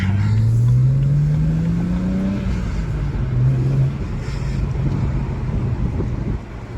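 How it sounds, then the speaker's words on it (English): A 2007 BMW 335xi twin-turbo sedan with an InGen cold air intake drives along, its engine note rising through a gear before dropping and climbing again, heard from inside the car under steady wind and road rumble. "This InGen air intake that I got, I love it. Sounds so good."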